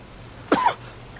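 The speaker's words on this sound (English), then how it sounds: "cough, cough, cough." A single short, sharp cough from one person, close and clear against a faint background hum, with no talking.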